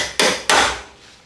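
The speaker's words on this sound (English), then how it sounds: "you can get a hammer and just smack that female nut" Two sharp hammer blows strike the female nut on an S13 BC Racing coilover, each a loud close metallic smack followed by a short ringing decay, with no talking.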